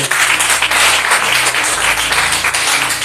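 Loud, steady crowd applause at a church service praising the Lord, dense continuous clapping filling the room without a break for about three seconds.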